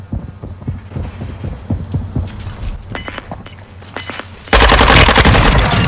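Gunfire in the Call of Duty Warzone Gulag at the Black Site map: scattered sharp shots and thuds over a low hum, then a sudden loud burst of sustained fire near the end, with no talk.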